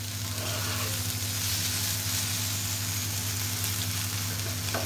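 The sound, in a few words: okra being fried in a pan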